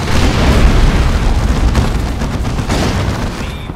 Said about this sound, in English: Readying missile launcher.